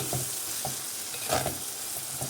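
Tomato pieces frying in a little oil on medium flame, a continuous soft sizzle with a few light stirring scrapes of a spoon in the pan, close up.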